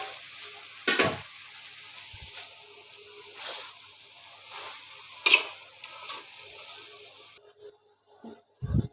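Spinach sizzles in a hot frying pan as it is stirred, a soft continuous hiss broken by several sharper scraping strokes of the utensil against the pan, close and fairly loud.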